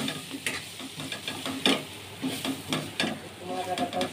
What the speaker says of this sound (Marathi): आता या अर्धी वाटी सुकं खोबरं ही आपण फ्राय करून घेणार आहोत.